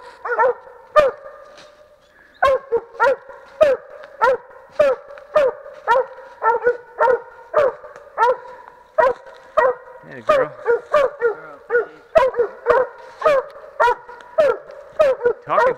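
Coon hounds bay and bark at trees during a night hunt, a rapid, near, continuous run of loud barks and bawls from more than one dog, with a voice speaking briefly partway through.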